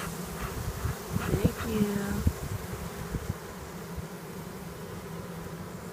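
Honey bees buzz around a beehive on a farm in Manoa, a steady droning hum of many insects close by, with occasional nearer passes and faint background talk.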